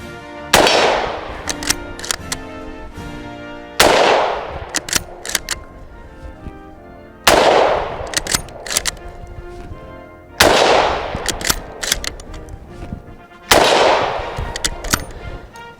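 Finnish M/39 Mosin Nagant rifle firing brass case ammunition outdoors, five loud sharp shots spaced about three seconds apart, each followed by ringing echo and bolt-cycling clatter.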